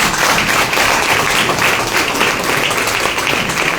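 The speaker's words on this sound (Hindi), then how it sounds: "तो एक बार हम चाहेंगे सारे लोग खड़े होकर के अजय सर के लिए सम्मान में जोरदार ताली जाए।" Audience applause for a guest, Ajay sir, at an IMC business event: dense, steady clapping from many people throughout, loud and continuous with no talk over it.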